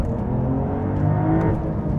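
Porsche 992 GTS Lightweight with a manual gearbox accelerating hard after a bogged-down launch, a loud, steady engine roar and whir heard from inside the car.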